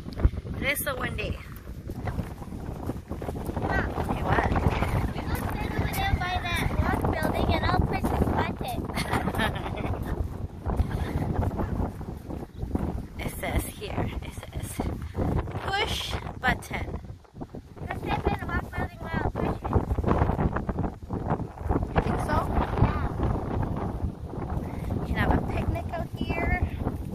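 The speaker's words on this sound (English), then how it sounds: "Wow. How windy. It is so windy." Strong wind buffets the microphone outdoors with a steady, loud rushing roar that barely lets up, while people talk now and then beneath it.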